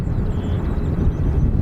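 Arriving aircraft at Dublin Airport drone in the distance, a low rumbling engine noise carried on gusting wind that buffets the microphone through the short moment.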